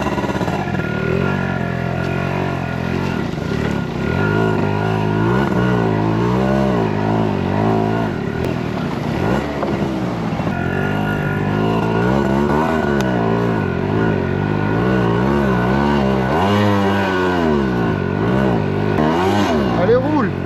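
A vehicle engine revving hard while trying to drive on beach sand, its fender already sunk in: loud, steady, close engine roar with rising and falling revs throughout, voices talking over it.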